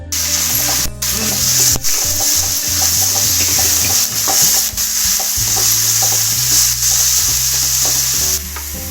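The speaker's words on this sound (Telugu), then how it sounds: "తర్వాత సన్నగా తరిగిన టమోటా ముక్కలను ఇందులో వేగనివ్వాలి." Finely chopped tomato pieces fry in a pan with a loud, steady sizzle, broken by scraping stirs of a spoon against the pan.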